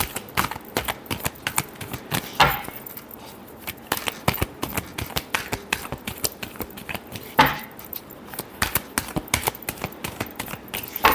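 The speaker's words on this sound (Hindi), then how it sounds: "Last shuffle." Tarot card deck being shuffled by hand, a rapid stream of crisp close riffling and tapping clicks with a couple of louder slaps.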